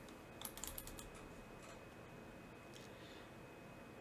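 Faint, rapid typing on a computer keyboard: a short cluster of key clicks early on, then a few scattered taps over steady low room hiss.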